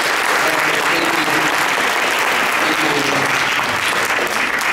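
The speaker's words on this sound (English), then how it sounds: "if you give the round of applause to" Sustained applause from a concert audience at a school orchestra event, dense and loud clapping from a large crowd filling the whole stretch evenly, with faint murmuring voices mixed in.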